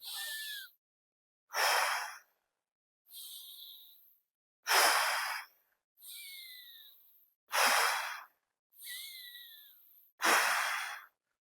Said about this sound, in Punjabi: ਨੱਕ ਰਾਹੀਂ ਸਾਹ ਲੈਣਾ ਔਰ ਫੂਕ ਮਾਰ ਕੇ ਆਪਾਂ ਛੱਡਾਂਗੇ